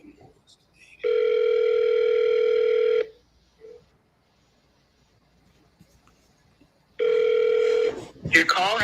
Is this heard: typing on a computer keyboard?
no